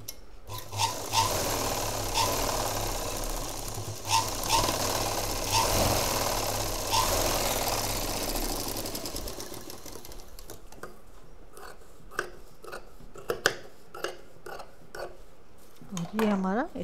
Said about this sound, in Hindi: अब ये जो हमने लाइन खींची है इस पर हम मशीन चलाएंगे